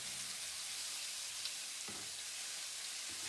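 Chicken fajita vegetables simmer in a pan over lowered heat, giving a soft, steady sizzle that stays faint and even throughout with no talking.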